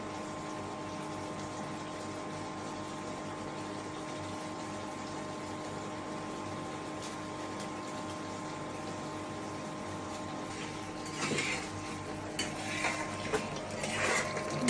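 Spiced beef kala bhuna stirred in a cooking pot: a steady hiss runs throughout, and soft scraping clinks of the spoon join near the end, close and moderately loud.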